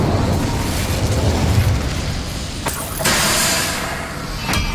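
A fire spell cast in the video game Hogwarts Legacy gives a loud, full-band whooshing roar of flame that swells sharply near the three-second mark and carries on, with another short flare near the end.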